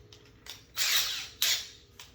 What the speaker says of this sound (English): Basically drill the hole out on the center of it.